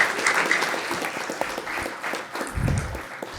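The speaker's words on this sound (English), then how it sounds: "let's give that wrestling team another round of applause." A crowd at a Board of Commissioners meeting claps steadily for a wrestling team, a warm round of applause that goes on without a break.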